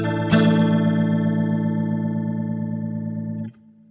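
A NUX Roctary rotary effect pedal on fast mode, colouring a single sustained guitar chord that rings out with a quick swirling warble for about three seconds before stopping abruptly.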